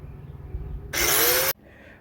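A power cutting tool slices into the sheet-metal tail panel of a 1970 Camaro, a loud, bright burst of about half a second that stops abruptly over a low background hum.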